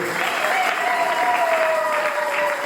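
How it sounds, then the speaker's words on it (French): A church congregation applauds and cheers to acclaim the Lord, a steady, full wash of clapping from many hands with a sustained tone and crowd voices running underneath. "Est-ce que nous pouvons acclamer le Seigneur?"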